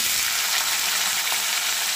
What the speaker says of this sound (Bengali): আস্তে আস্তে হোক ভাজাটা, তাহলে লাল লাল করে ভাজবো